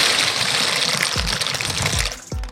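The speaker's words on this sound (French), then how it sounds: "vous ajoutez les pâtes." Pasta goes into a saucepan of boiling salted water, giving a steady close bubbling and gushing hiss with a few low plunks and splashes as it settles, with no voices.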